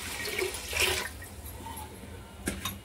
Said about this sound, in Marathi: ह्या ग्लासाने 3 ग्लास पाणी टाकले